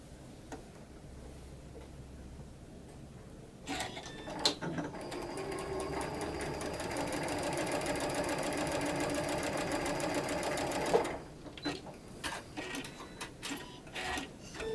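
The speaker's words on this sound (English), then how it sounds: "we're going to stitch these together." A sewing machine stitches quilt pieces together, starting after a quiet moment and running in one steady, fast mechanical whir with rapid ticking for several seconds before stopping, followed by a few handling clicks.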